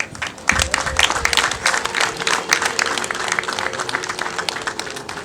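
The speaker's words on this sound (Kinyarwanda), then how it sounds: "mubaha amashyi n'impundu" Wedding guests at a Rwandan introduction and dowry ceremony break into loud, sustained applause with dense clapping throughout, and the high trilling ululation cannot be picked out distinctly.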